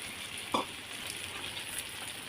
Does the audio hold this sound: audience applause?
no